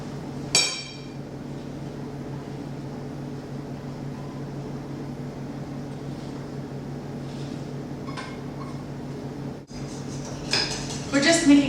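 A spoon clinks and scrapes against a bowl while chocolate raspberry pudding is stirred, with sharp metallic knocks at the start and end over a low steady hum.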